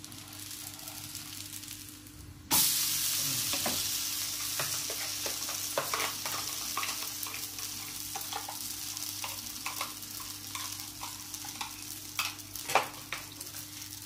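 Coconut oil sizzling and frying in a pan while ridge gourd dosa is made, a loud steady hiss that bursts in suddenly and carries on with stirring scrapes and pops.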